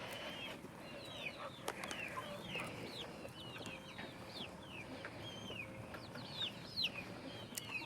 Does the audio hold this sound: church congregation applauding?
no